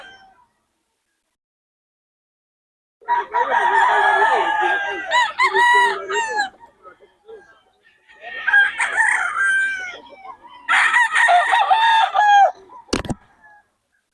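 A bullstag fighting rooster at a festival expo crows several times in a row, loud and close, each call a strained, wavering cry, with a sharp knock near the end.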